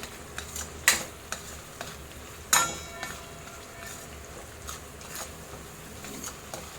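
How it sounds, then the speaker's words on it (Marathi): A spice masala of Kashmiri red chilli powder and salt is stir-fried in oil for dum aloo, a quiet continuous sizzle marked by two sharp spatula clacks and lighter scraping taps. "एकदम व्यवस्थित असं परतून घ्यायचं तेलामध्ये"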